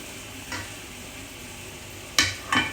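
Sauce ingredients mixed with a teaspoon of oregano being stirred in a pan, a low steady sizzle with a soft scrape near the start and two sharp utensil scrapes against the pan toward the end.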